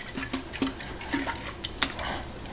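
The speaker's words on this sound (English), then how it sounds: "So just really aerate the heck out of it." A yeast starter flask shaken hard to aerate it, with liquid sloshing and repeated glassy clinks that come in irregular bursts, close and moderately loud.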